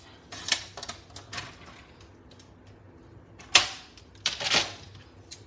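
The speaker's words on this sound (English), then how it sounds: "just grab your trimmer and slice it right on off" A paper trimmer slices scrap white cardstock in a quiet room: a few soft scrapes and clicks, then two sharp, close cutting swipes near the end, with no voices.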